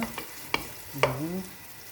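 Pancetta fries in a pan, a soft steady sizzle close by with a few sharp clinks of a utensil stirring against the pan.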